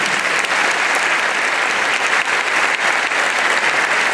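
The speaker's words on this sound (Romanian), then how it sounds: "Aplauze și pentru dirijorul" Steady, dense applause from a concert audience honoring the conductor after a madrigal choir performance, loud and continuous with no talking.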